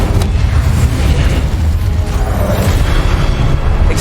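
Incendio fire spell blasting in Hogwarts Legacy, a loud, sustained roaring burst with a heavy low rumble and crackling texture throughout, no voices.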